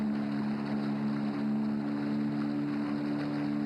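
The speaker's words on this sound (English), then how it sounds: "The sound of our motorboat unsettling the pervasive calm." Motorboat cruising on the Kaveri river, a steady, close engine drone with a strong low hum and wind-like hiss, unbroken throughout.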